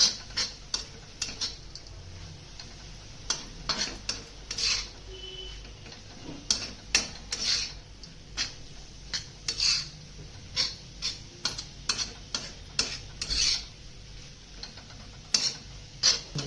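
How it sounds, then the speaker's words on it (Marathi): A pestle knocks and grinds in a mortar while spicy fenugreek thecha with crushed roasted peanuts is mixed, giving close, irregular clacks and scrapes in uneven bursts against a quiet background. "खलबत्त्यात आता मिक्स करून घ्यायचं"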